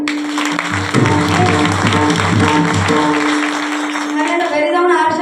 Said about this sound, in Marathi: स्वतःसाठी अशी बेस्ट टाळी वाजवायची.